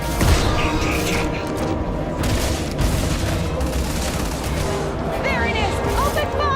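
Sci-fi combat gunfire in the space game Starfield: dense, continuous shooting and impacts with booms, loud and sustained throughout, with voices shouting over the battle.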